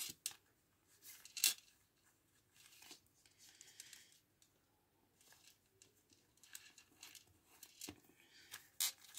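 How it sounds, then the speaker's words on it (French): Scissors snip through washi paper, rounding off the corners of a paper card; soft, quiet cuts come in irregular bursts with rustling paper handling in between. "vous recoupez votre papier"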